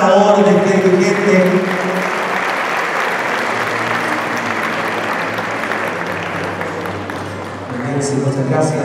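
Dinner guests at a neighborhood community leaders' celebration applauding in a sustained round of clapping, framed by voices at the start and end.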